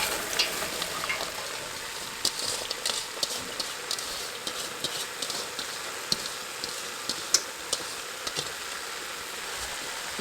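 Vegetables cooking in a pot with browned hamburger meat, giving a steady soft sizzle and crackle with small pops scattered throughout, fairly quiet and close, with no talking.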